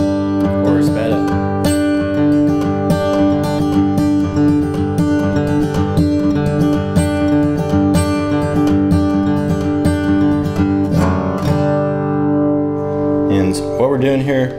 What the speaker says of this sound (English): starting out with a pick down, so a very simple start to it. Then second half is pick, up pick.